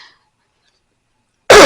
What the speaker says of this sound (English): Because I've got to stop this cough.